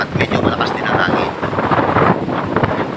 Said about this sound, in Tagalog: At medyo malakas din ang hangin.